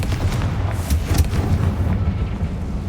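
A Confringo blasting curse explodes in Hogwarts Legacy, producing deep rumbling booms. Several heavy low blasts come close together over three seconds.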